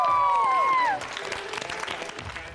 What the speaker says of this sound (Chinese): 掌声和尖叫声！